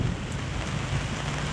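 Steady rain pours down in Croatia, a constant dense hiss of drops on surfaces with a low rumbling undertone and no voices.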